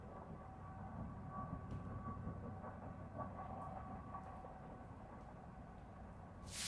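A train rumbles past near a frozen lake during ice fishing, a steady low rolling drone with faint metallic clicks and a soft whine, moderately distant, with no voices.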